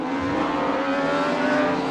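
Several 1990s DTM touring cars race in RaceRoom at Brno, their engines droning loud and steady as the pack runs together, with no break in the roar.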